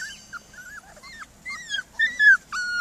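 Young puppies whimpering and yipping outdoors on a sunny spring day, a string of short high whines and yelps in irregular bursts, growing louder toward the end, with no talk.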